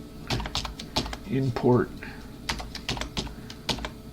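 Rapid clattering keystrokes on a computer keyboard come in bursts, close and fairly loud, with someone speaking briefly in the middle.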